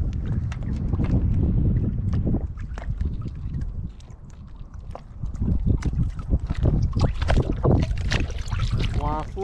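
Gusty wind buffeting the microphone outdoors at a pond where 30 cm model sailboats are sailing, rumbling in uneven surges that dip briefly midway, with faint bits of other sound.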